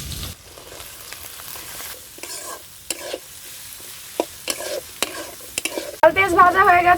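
Chopped chili and onion frying in oil in a village kitchen, a soft sizzle broken by sharp clicks of a spatula stirring against the pan, then a louder burst of crackling frying near the end.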